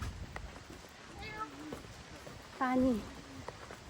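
A cat meows twice, a short call then a louder, longer one, against quiet outdoor background noise.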